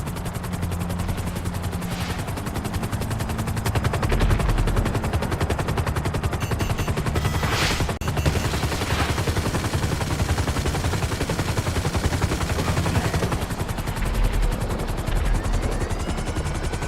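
A Buzzard helicopter's machine guns in GTA Online fire in dense continuous rattling bursts over the constant whirring rotor drone, loud and close throughout.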